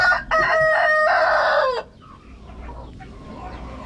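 Chickens in a coop make a loud, close rooster-like crow lasting well over a second. Fainter clucks and scratching follow, and no one speaks.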